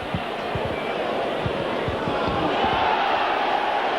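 Crowd shouting and jeering at a 1990 rugby league match between Leeds and Widnes, a dense, continuous roar of many voices with sharp individual yells cutting through, steady and loud throughout.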